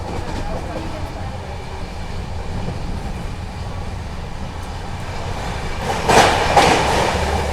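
The Jallianwala Bagh Express train rolls steadily along the rails at about 110 km/h with a constant low rumble and rhythmic wheel noise, growing briefly louder and brighter near the end.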